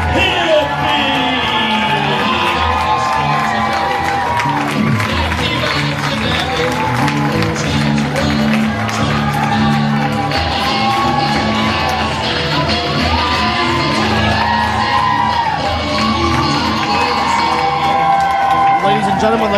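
A loud pro wrestling arena crowd cheers and yells nonstop for Jimi the Flying Hippie at his ring entrance, with shouts and whoops layered over a dense roar and an announcer speaking over the din.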